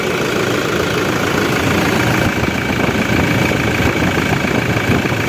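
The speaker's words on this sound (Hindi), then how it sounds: "तो ये रहा गाड़ी का साउंड जो अभी आपके सामने है।" A Toyota Fortuner's engine idles steadily with an alternator problem, a continuous close engine drone with a faint whine running through it at a constant level.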